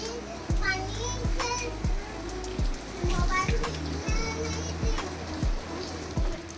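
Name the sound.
rain falling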